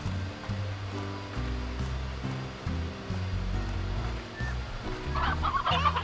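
Hens cluck in the game Slime Rancher, a run of short repeated clucks over a steady low musical backing, with no talk.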